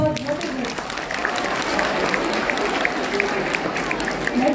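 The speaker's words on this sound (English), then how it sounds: "Give them a big round of applause" An audience applauds at a KLE Society S. Nijalingappa College event, with dense, continuous clapping from a crowd and voices mixed in beneath it.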